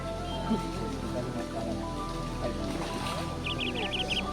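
A large catla fish thrashes on a hook, churning the water with a steady, close wash of splashing and patter that grows busier toward the end.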